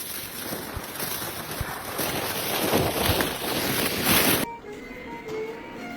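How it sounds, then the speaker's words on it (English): Typhoon Bavi's massive waves crash against the Okinawa coastline in a loud, continuous roar of surf and wind that cuts off abruptly near the end, leaving a much quieter background. "massive waves crash against the coastline"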